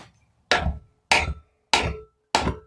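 A hammer strikes a wedge driven in to loosen a small engine's flywheel, giving five sharp, evenly spaced metallic taps close up, each with a short ringing decay.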